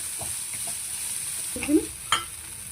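Flattened rice (poha) being stirred in a frying pan, a soft steady sizzle with a couple of scraping stirs and light clatters near the end.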